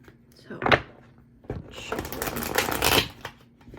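An Antique Anatomy Tarot deck is shuffled up close, with a short riffle followed by a longer, louder run of shuffling; a voice speaks softly around it.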